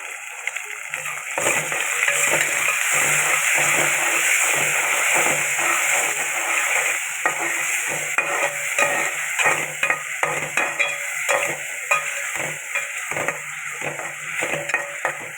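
Tomato paste frying in a pan while being stirred, a loud dense sizzle overlaid with repeated scraping strokes of the spoon, continuous and close.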